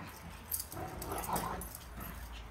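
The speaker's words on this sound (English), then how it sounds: "Lots of roughhousing this morning with the big dogs." Big dogs roughhousing indoors on a home base floor, with scuffling, soft whimpers and faint clinking like tags or keys, moderately quiet and continuous over a low room background.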